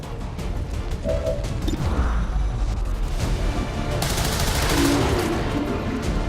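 Weapons fire in XCOM 2: War of the Chosen, with sustained bursts of loud gunfire and clattering mechanical impacts that build into a heavier barrage toward the end.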